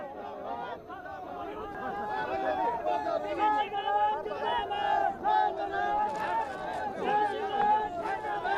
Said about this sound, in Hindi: समर्थकों की भीड़, जमावड़ा, समर्थकों की नारेबाजी